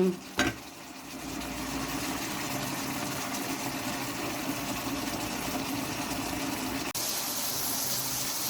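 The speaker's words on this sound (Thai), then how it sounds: "ผัดจนน้ำแห้งนะครับตอนนี้ น้ำแห้งตัวมันก็จะแฟบลง" Sago palm weevil larvae stir-fried with garlic and black pepper in an electric pan, a steady close sizzle with a wet bubbling edge and occasional clacks of the spatula, continuing without talk.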